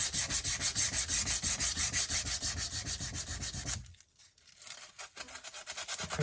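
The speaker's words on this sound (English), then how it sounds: "I will just run a little bit of sandpaper over it, just to try and get a more uniform finish" Sandpaper rubbing back and forth over a homemade mudguard support for a Honda motorcycle, a steady, loud run of rapid scraping strokes that stops abruptly, followed by a few quieter, scattered scuffs.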